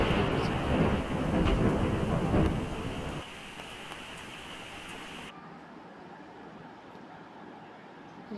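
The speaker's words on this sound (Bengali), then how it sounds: "গাইস বৃষ্টি চলে এসেছে।" Rain and thunder in an Indian bike video game: a broad rumbling downpour with thunder swells for the first few seconds, then the roar drops to a quieter, steady hiss of rain, with no voices.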